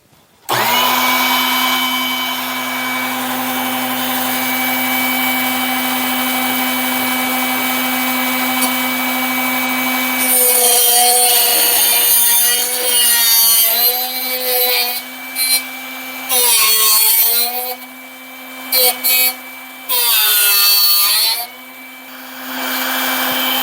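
A Drill Doctor sharpener with a drill bit in it runs with a steady electric motor whine, close and loud. About halfway through, uneven grinding bursts cut in and out over the hum as the bit is sharpened.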